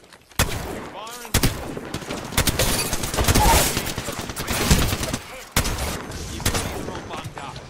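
Rapid bursts of gunfire in the battle royale game Apex Legends, with sharp repeated shots and loud bangs over a dense firefight, and a voice speaking briefly between volleys.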